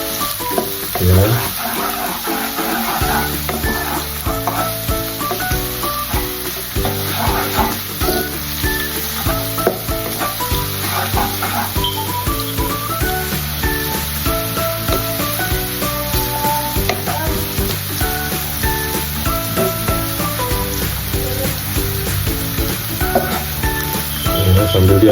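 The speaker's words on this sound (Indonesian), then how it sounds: "Ini bawang putihnya kita tumis sampai harum terlebih dahulu" Garlic sautéing in a hot pan for Semarang lumpia filling, a loud steady sizzle running throughout, close up, with occasional stirring and faint background music.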